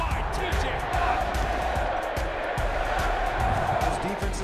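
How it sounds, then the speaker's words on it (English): Stadium crowd at Acrisure Stadium in Pittsburgh on football game day, a loud sustained roar of cheering with rhythmic thumps underneath, continuous throughout, with a voice talking over it. "The crowd at Acrisure is so loud."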